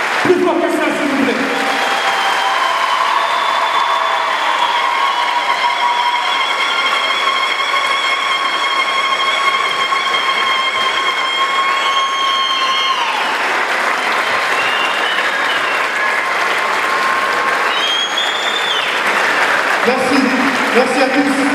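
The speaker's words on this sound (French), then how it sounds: "on va tous applaudir pendant une minute" Long, steady ovation from a standing crowd honouring a young boy at a New Year's Eve night, dense clapping with whistles and voices threaded through, staying loud to the end.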